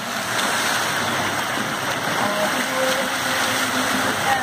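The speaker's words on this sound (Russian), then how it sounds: "Шумит вода, как будто прибой." Steady broadband rushing of a small waterfall in a city park at night, continuous and fairly loud, like surf, with no voices.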